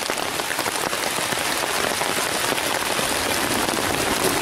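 Steady, dense rain pours down during a thunderstorm, a constant close hiss of drops pattering on surfaces with no pauses.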